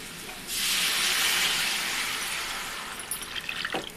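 Tamarind extract pours in a steady liquid rush into a pot of Andhra-style fish curry, then trails off into a few drips and splashes.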